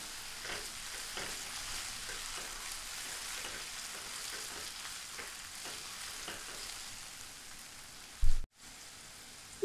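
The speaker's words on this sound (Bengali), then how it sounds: "ডালটা কিছুক্ষণ নাড়াচাড়া করে নেব।" Moong dal stirred and fried in a pan on a low flame, a soft even crackle with light rhythmic scraping, ending in a brief thump and a short gap before the hiss returns.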